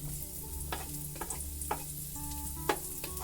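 Ginger frying in a pan, a close steady sizzle with intermittent scrapes and taps of a utensil against the pan over a low background hum.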